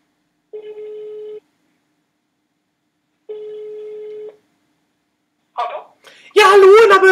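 Two steady, evenly spaced rings of an outgoing telephone call, each about a second long with silence between, before a voice answers loudly at close range.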